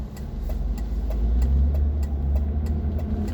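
A BMW 325Ci E46 engine idles in neutral after an oil pan gasket replacement, a steady low rumble with a faint regular ticking, close and alone without talk.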